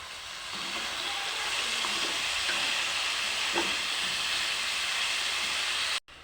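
Cabbage cooking in a pan with turmeric powder, tomato, ginger and green chilli, giving a steady, even hiss that runs unbroken for several seconds at moderate level with a few faint clicks.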